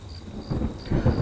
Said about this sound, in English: Sounded like it was going to start raining again.